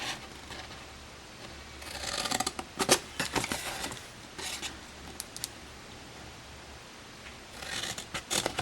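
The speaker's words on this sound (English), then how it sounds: "we're going to cut up all of the other score lines like this." Scissors cutting up along the score lines of a paper hexagonal lidded gift box, in several short bursts of snipping and crisp paper rustle, close and alone with no talk.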